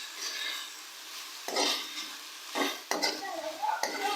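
A spoon stirs keema with ginger-garlic paste in a pan, making scraping clinks and a few sharper knocks against the metal over a soft sizzle. The sounds are close and irregular.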